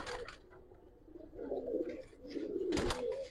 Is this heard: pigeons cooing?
yes